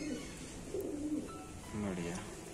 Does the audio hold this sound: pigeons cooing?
yes